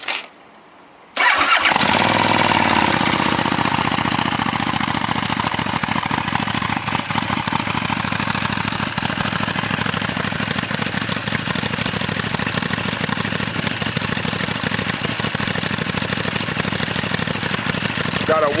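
A Buell 1125R motorcycle with a freshly repacked Barker muffler fires up after a brief quiet moment, then settles into a steady, loud, close idle that continues unbroken.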